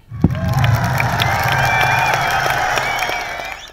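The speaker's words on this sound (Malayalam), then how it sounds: "സോ നല്ലൊരു കൈയടി നിങ്ങൾക്കായി." A large audience at the Kerala Film Producers Association awards ceremony in Doha breaks into loud, sustained applause and cheering that holds steady for several seconds, with tonal music-like strands running through the crowd noise before it eases off slightly.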